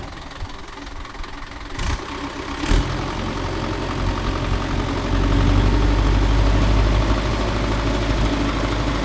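A Mahindra Yuvo Tech Plus 585 4WD tractor pulls a nine-tine cultivator through a field, its engine chugging loud and steady, with a couple of brief knocks and a deeper, heavier drone building in the second half.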